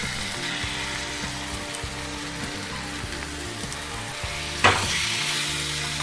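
Marinated chicken sizzles in a pan with fried onion and tomato, a steady close frying hiss with soft scraping stirs, then a sudden louder burst of sizzle near the end.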